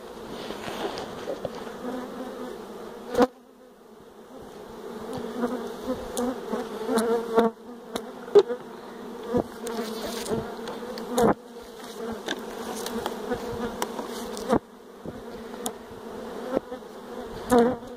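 A honey bee swarm gathers into a hive placed nearby, a dense, continuous buzzing hum of many bees close by, with occasional sharper knocks and bumps over the droning.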